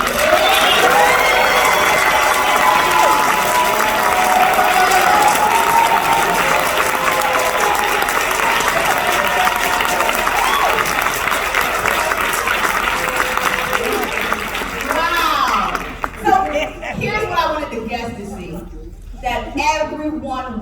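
Loud applause and cheering from a large crowd at a Hyperverse event in a Crowne Plaza hotel, with shouts and whoops over the clapping. It fades after about fifteen seconds, leaving scattered voices.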